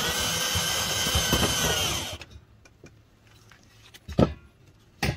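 A cordless drill fitted with an extension attachment runs steadily for about two seconds while backing screws out of a crevice on a Rheem water heater, then stops, leaving a few faint clicks and one short knock.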